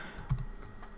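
A few quick keystrokes on a computer keyboard, soft close taps within about a second in a quiet room.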